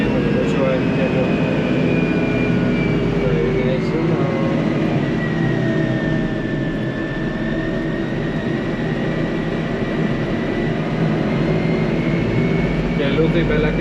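A tractor cab engine drones steadily while driving along a road, a loud continuous low rumble with a faint whine gliding in pitch, and a person briefly speaking over it.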